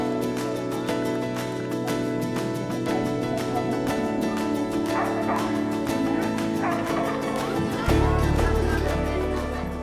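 Guide dogs in training-centre kennels in Cernay keep up a dense chorus of yips and barks, many dogs at once with rapid overlapping calls over a steady background din.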